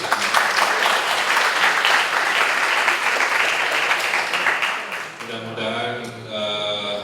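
A keynote audience bursts into loud, dense clapping that carries for about five seconds before fading, as a voice starts talking over the last of it.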